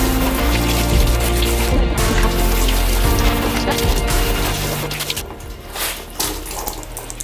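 Tap water gushes into a bathtub with soap to wash a tablecloth, a loud, continuous splashing rush that eases slightly toward the end.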